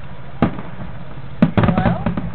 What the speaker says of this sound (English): I'm at the fireworks